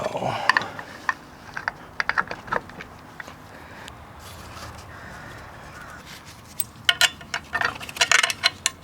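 A ratchet tightens the bolts on a Mazda 3 torque mount, giving a close series of sharp clicks that come in bursts, busiest near the end.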